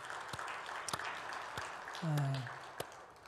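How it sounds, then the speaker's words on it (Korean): Church congregation applauding during an afternoon Sunday service, a short burst of soft, fairly distant clapping with sharp isolated claps and a brief low tone partway through. "오늘 찬양 인도한 부부 목장에게 우리 박수 한번 보내줍시다"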